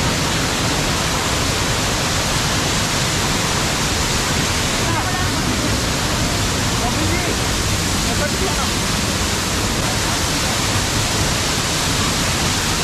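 Bhavali waterfall at Igatpuri roars as a loud, steady broadband rush close by, with a busy crowd's chatter mixed into the constant water noise throughout.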